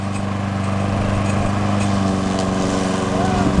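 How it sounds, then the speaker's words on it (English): A lawn mower engine drones steadily and loudly nearby while mowing a lawn, a constant buzzing hum with no breaks, and a voice speaks faintly over it. "I am now teaching him how to mow the easy part"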